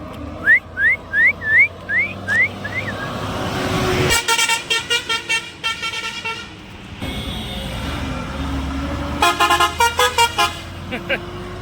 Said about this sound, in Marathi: कडक हॉर्न मारून गेला रे बाबा